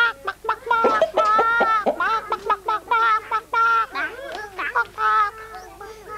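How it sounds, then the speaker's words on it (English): Farm chickens clucking and squawking close by, a rapid series of loud, repeated calls with short pauses between bursts. "There's some chickens too on a farm."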